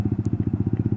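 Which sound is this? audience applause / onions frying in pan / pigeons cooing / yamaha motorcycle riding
yamaha motorcycle riding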